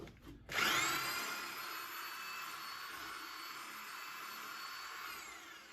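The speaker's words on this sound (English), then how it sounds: "Stop the drill and pull it out slow." A power drill spins a wire brush scraping the inside of a VW Beetle heat riser tube, a steady, loud whirring grind that starts abruptly after a brief pause and holds at an even pitch with slight fluctuation throughout.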